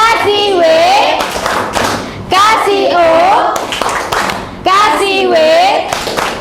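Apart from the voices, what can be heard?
class clapping rhythmic applause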